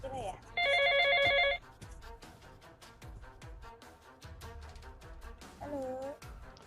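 A telephone rings with a call from the regent in a civil-servant role-play, a loud warbling electronic ring burst lasting about a second, then a shorter ring later, with people talking in between.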